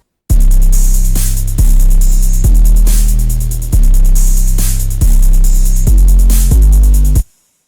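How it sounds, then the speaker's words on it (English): A trap drum loop with heavy booming 808 bass hits and fast ticking hi-hats, loud and punchy, repeating in short bars for several seconds before cutting off abruptly. "I had some kind of trap switch up and the drums that sound like this"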